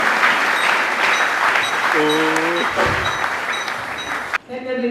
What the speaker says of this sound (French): L'Assemblée peut acclamer.